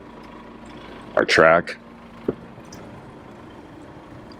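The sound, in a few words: sailboat engine running at anchor in gale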